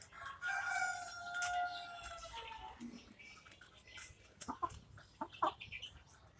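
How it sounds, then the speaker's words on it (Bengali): Light Brahma chickens, including an American Light Brahma rooster, cluck and call nearby, with a drawn-out crow-like call early on followed by several short, sharp clucks, all fairly faint. "মোরগটাকে দেখুন।"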